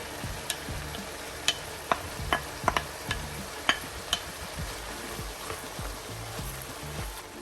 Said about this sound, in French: Now you add in your onions.